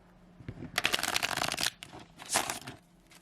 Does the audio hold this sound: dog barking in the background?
no